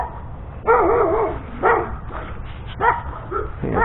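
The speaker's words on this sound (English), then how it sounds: "The neighbor dogs will sit there and yap until I turn around and look at them" Neighboring dogs yap in short bursts outdoors near a kayak repair job, several loud yelping barks spaced across a few seconds with quieter background between.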